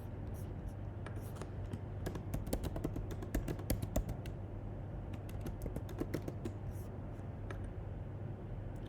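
Rapid, light clicking of keys on a computer keyboard, in irregular bursts and runs against a faint steady hum.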